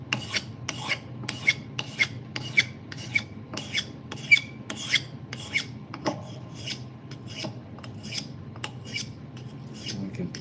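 A blade being filed to roll its edge over and straighten it: steady, rhythmic rasping strokes, about a dozen, close and moderately loud against a quiet background.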